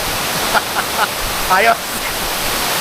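Tamaraw Falls in Puerto Galera, Oriental Mindoro, Philippines, pours as a steady broadband rush throughout, with a person speaking briefly over it.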